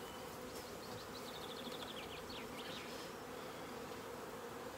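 Honey bees buzz around an open beehive during queen-rearing work, a faint, steady swarm drone with individual bees whining closer past at moments, no talking.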